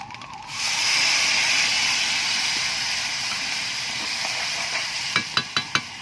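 A spice paste of cumin, turmeric and chilli powders with salt and a little sugar hits a hot pan, giving a loud, steady sizzle and hiss with a few sharp clinks of stirring near the end; nobody speaks.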